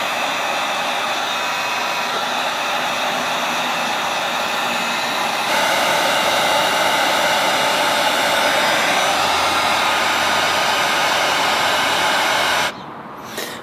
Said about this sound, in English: that did take a good amount of heat here with the heat gun